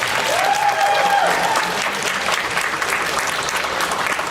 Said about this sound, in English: let's give a big round of applause for all our volunteers